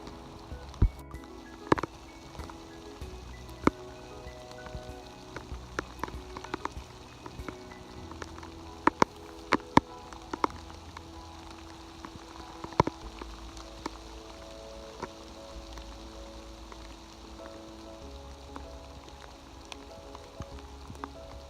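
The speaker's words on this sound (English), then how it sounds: "Raining heavy now." Heavy rain in Cannock Chase woodland, a faint, steady patter with occasional louder individual drips striking nearby surfaces.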